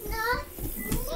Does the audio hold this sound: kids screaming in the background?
yes